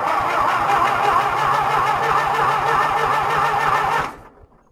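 John Deere tractor engine cranking on a cold winter start without firing, a rapid, even chugging of the starter motor for about four seconds before it cuts off abruptly into quiet.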